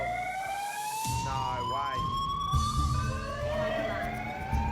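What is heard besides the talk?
fire alarm going off in the MasterChef kitchen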